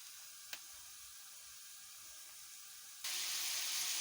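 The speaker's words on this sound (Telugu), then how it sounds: "ఇప్పుడు వంకాయ ముక్కలు వేస్తున్నాను" Brinjal pieces dropped into hot oil with fried onions and prawns, making a steady broad sizzle that surges louder near the end as more pieces hit the pan, with a brief clatter early on.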